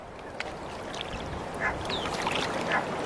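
Barnacle geese call a few times at moderate distance, short honking cries rising over a steady windy outdoor background with no talk.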